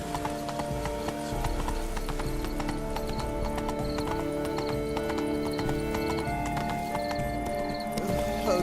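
Horse hooves clip-clop at a steady gallop across Toussaint in The Witcher 3: Blood and Wine, loud and continuous over a layer of game music, with a whinny rising from the mix.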